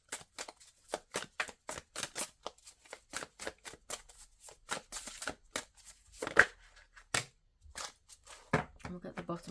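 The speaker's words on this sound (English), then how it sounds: "I only shuffle these cards in the upright" A deck of tarot cards is shuffled by hand, close and crisp, as a quick run of sharp riffling snaps and slaps in uneven bursts with brief pauses.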